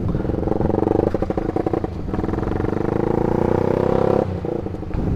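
A stock Honda CBR150R with a remapped ECU and helicopter limiter holds around 3,000 rpm, cutting in rapid stuttering bursts over a loud, close engine drone before it abruptly drops off near the end.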